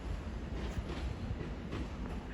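Class 350 electric multiple unit, number 350 261, departing Watford Junction station on the West Coast Main Line, a steady continuous rumble of train running with faint rail clatter throughout, moderately distant and without speech.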